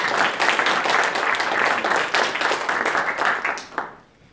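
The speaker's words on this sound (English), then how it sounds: "If you would like to clap your hands" An audience at a climate conference side event applauds steadily for about four seconds, then the clapping thins out and fades away.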